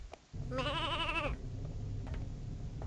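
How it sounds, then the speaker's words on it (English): A sheep in the Ratchet and Clank 2 video game lets out a single wavering bleat lasting under a second, heard over a steady low game background hum. "I love it how there's the sheep baaing in the background."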